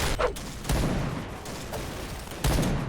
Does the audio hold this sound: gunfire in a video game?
yes